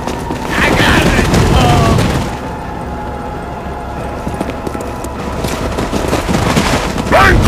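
Gunfire and heavy booms from the video game Resident Evil 4 fill the scene, loud and dense, with a sharp burst at the start, a lull in the middle, and another burst near the end.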